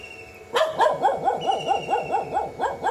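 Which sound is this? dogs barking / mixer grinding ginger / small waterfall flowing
dogs barking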